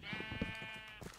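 A single Minecraft sheep bleat, a quavering, nasal baa about a second long, heard faintly on its own.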